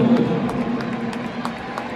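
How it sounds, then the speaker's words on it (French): A stadium crowd at a Lyon versus Nice football match cheers and applauds in a steady, dense roar, with scattered sharper shouts rising above the wash of noise. "on applaudit, on encourage, on remercie tous les supporters et nos joueurs"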